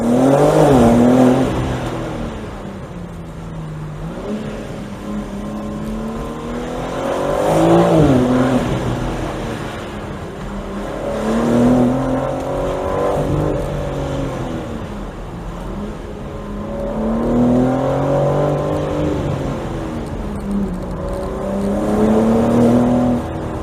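A 2022 BMW M4 Competition Convertible M xDrive drops to first gear and accelerates hard, its loud engine note climbing and falling through repeated rev surges over about twenty seconds, with steady road and wind roar underneath.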